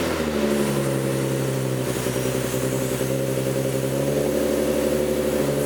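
A Nismo 370Z engine cranks and fires on a dyno with a freshly fitted oil cooler, running loud and steady with a dense, rough low drone throughout and no voices.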